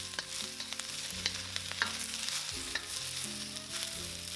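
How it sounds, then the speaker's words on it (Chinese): Snow peas, mushrooms and garlic stir-fry in a hot wok, with a steady sizzle and repeated scraping and tossing strokes of the spatula, close and fairly quiet, no voices. "再加入雪豆、蘑菇和蒜，炒到翻香30秒"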